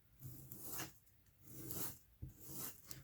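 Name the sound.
leather edge rolled on sandpaper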